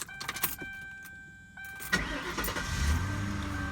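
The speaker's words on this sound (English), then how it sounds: "I'm gonna start it up." A Lincoln Town Car with 158,000 miles starts up close by. A few quiet clicks come first, then the starter cranks briefly and the engine catches and settles into a steady idle rumble.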